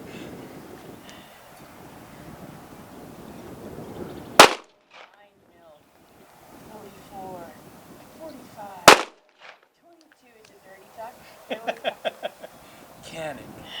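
A Guardian 6 defensive pistol fires two sharp, loud shots several seconds apart outdoors, with people talking quietly between them and a run of faint clicks toward the end.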